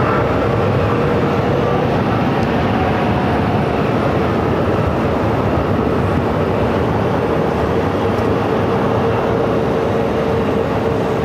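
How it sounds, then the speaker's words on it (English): A Southwest Boeing 737-800 arriving at Phoenix airport from Denver, a steady broad roar of jet engine noise that holds loud and even throughout, with no voices. "This is Southwest Flight 1304 coming in from Denver on a 737-800."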